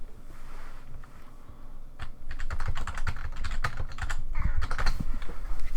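A cat walks across a computer keyboard, keys clattering in irregular bursts of clicks and thumps that grow busier and louder, close up, with no talking.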